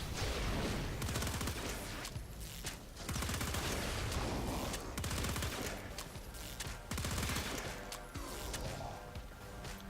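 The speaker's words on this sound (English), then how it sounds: "Now let's try it with the alt fire and just spam the alt fire into him." Rapid spammed alternate fire from the Pandero pistol in the Warframe video game, a dense, loud burst of repeated gunshots running almost continuously with only brief gaps.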